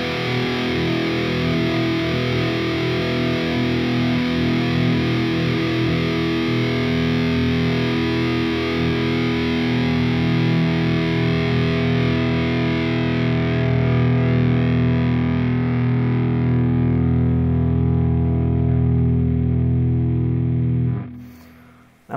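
Distorted electric guitar power chords played on a Stratocaster, a loud sustained fifth ringing thick and buzzing for about twenty seconds before being cut off abruptly, with no talking.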